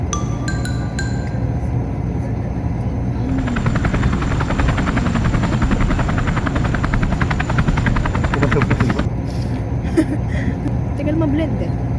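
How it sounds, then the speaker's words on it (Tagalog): A helicopter passes overhead near a university campus, its broad rotor drone swelling in the middle of the clip and then easing off, with people talking over it throughout. "helicopter na lumilipad"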